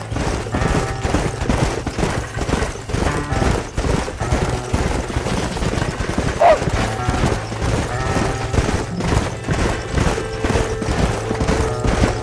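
Horses in Red Dead Redemption near cliffs, hooves thudding and clopping in a dense steady rhythm, loud and close over a busy game soundtrack.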